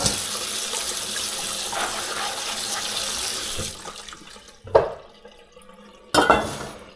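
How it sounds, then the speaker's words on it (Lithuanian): Soaked chickpeas are rinsed under a running kitchen tap, a steady hiss of water for several seconds that cuts off, followed by a couple of sharp splashes and knocks in the sink. "Užmerktus nuplaunu."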